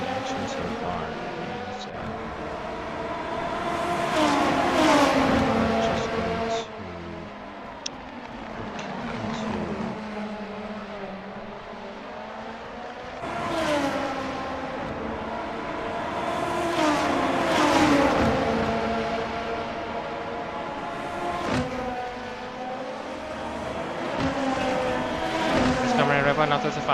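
Race cars roar around the Motegi circuit in a racing video game, engines rising and falling in long revving sweeps as cars pass, with commentary running beneath throughout.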